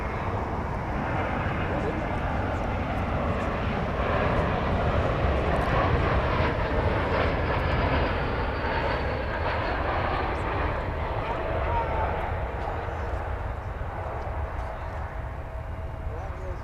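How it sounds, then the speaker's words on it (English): An American Airlines jet in Allegheny retro livery passes at Dallas Fort Worth with a continuous engine roar. The roar swells and then slowly fades over many seconds, with a thin whine rising on top. "American 2357, the Allegheny Retro livery, which is now coming into focus"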